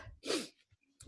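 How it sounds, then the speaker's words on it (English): A single short, sharp sneeze bursts out close to the microphone after a quick inhaled breath, followed by a brief sniff and quiet breathing. "I have to sneeze."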